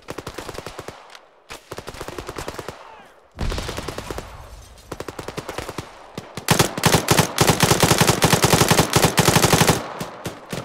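Gunfire in the military shooter ArmA: scattered single shots and short bursts give way to a loud, sustained rattle of rapid automatic fire in the second half, with no voices over it.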